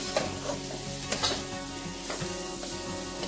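Mixed vegetables such as beans and spring onions stir-frying in a hot pan for Schezwan fried rice, a continuous close sizzle with repeated spatula scrapes and knocks against the metal.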